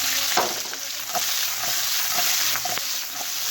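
Green chillies sizzle in hot oil with soy sauce in a pan, a steady close frying crackle punctuated by occasional stirring scrapes, with no talking.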